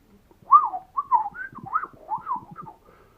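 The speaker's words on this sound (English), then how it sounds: "he wants to sing and whistle along with Mozart's music." A pet bird whistles along to Mozart, giving a few clear, close, sliding whistled phrases in a short melodic run with brief pauses, no voices present.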